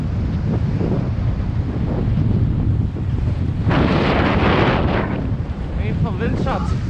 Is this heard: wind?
yes